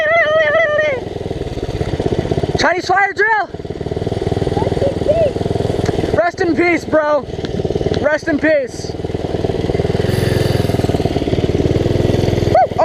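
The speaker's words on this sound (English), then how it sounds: "This clutch is trying to like pull me away right now." Small mini bike engine revving and buzzing up close during a ride, loud and continuous throughout, with people shouting and talking over it.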